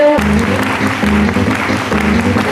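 An audience at a business seminar breaks into loud, sustained applause that fills the hall evenly, with a low tonal hum from the sound system beneath the clapping.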